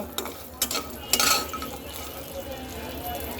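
Dal bori, small sun-dried lentil dumplings, lightly frying in hot oil, a soft steady sizzle with a few louder scraping stir clatters early on, under faint background voices.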